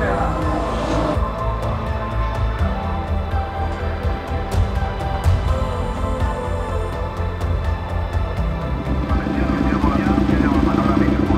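A motorcycle engine runs steadily during a tyre-pressure test ride, a loud continuous rumble with a rough mid-range drone throughout, while someone talks over it.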